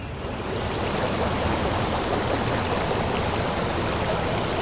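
A rushing waterfall near Tarsus roars steadily and loudly from start to finish, a dense, unbroken wash of falling water with no voices.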